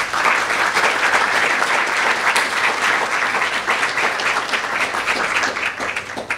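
Sustained applause from a crowd at a graduation ceremony, dense and steady clapping throughout, fairly loud and close, with no talking.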